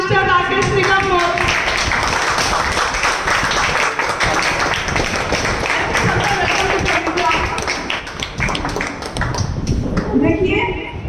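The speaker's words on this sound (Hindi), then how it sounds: "सारे लोग अपने स्थान पे खड़े होकर एक जबरदस्त ताली के साथ हम इन्वाइट करते हैं" A large audience at a motivational event claps and applauds to welcome Mr. Rakesh Nigam, an upline ambassador star; dense, steady clapping runs throughout, loud and close, with a voice over it through the whole clip.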